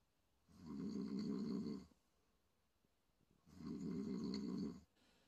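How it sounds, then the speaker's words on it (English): Two long, rumbling snores, each lasting over a second, separated by a quiet pause, close and fairly loud in a silent room. "somebody snored too loud"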